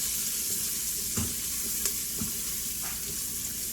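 Vegetables fry in seasoned oil for a golden yellow curry, a constant close sizzle with a few soft stirring knocks and scrapes scattered through, no voices over it.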